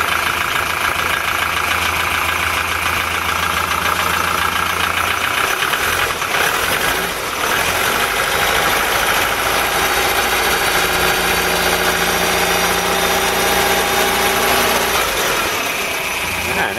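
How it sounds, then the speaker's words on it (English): The diesel engine of a 1988 Mazda van idles steadily and loudly up close, with a constant low rumble and rattling vibration running the whole time. "Sounds like a diesel."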